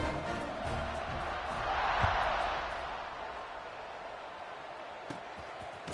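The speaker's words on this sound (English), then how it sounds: "this crowd is buzzing after that last score" A stadium crowd at a Virginia Tech versus Virginia college football game keeps up a broad, steady buzz of distant voices that swells slightly and then settles, with no clear speech.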